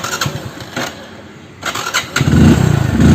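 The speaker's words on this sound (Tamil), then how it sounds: "பைக் வந்து ஸ்டார்ட் ஆகும், ஆனால் ஐட்லிங் நிற்காது." A motorcycle engine with an idling fault cranks and sputters, catches briefly with a rough, uneven idle, loud and close by.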